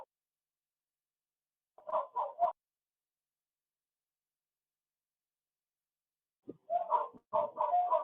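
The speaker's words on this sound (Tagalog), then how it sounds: "ang mga naririnig nila yung mga kalapati, ganyan, mga ibon" Pigeons cooing outdoors in two separate bursts of soft, rhythmic, throaty coos, the first brief and the second longer with several repeated calls, each surrounded by silence.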